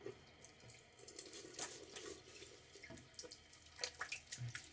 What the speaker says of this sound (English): And a little quick splash of water.